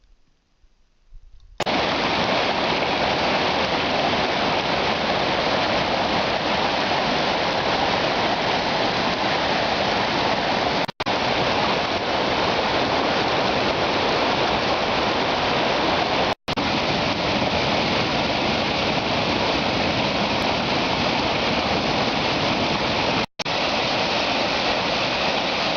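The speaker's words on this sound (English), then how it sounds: "These following clips show the flowing river from which the falls are created." A river in Bighorn National Forest rushes just above a waterfall, giving a steady, loud, broadband roar of flowing water that fills the whole stretch, with only a few abrupt brief cuts.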